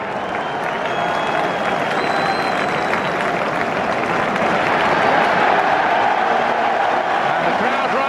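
A football crowd at an Arsenal versus Chelsea match applauds continuously as it rises, steady dense clapping and murmuring from a large stadium, with faint voices blended into the din.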